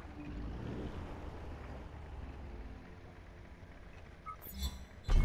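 A Squalo X7 powerboat in Just Cause 3 gives a low, rumbling engine wash mixed with water and wind noise, moderately quiet, ending in a couple of sharp bursts.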